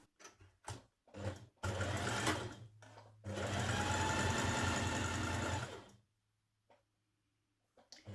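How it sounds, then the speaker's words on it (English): A sewing machine runs in two long bursts stitching the underarm seam of a sweater sleeve, with short start-stop whirs before, then it falls quiet near the end. "Now you're going to stitch the underarm seam of your sleeve, matching your notches."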